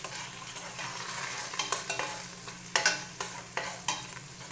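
Garlic sizzles steadily in a very hot pan while it is stirred, with irregular scraping and clattering bursts over a constant frying hiss, close and alone with no talk, while cooking chicken bopis.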